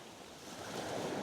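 Ocean waves wash onto a beach at sunrise, a faint, continuous rushing surf with wind noise that swells slightly toward the end.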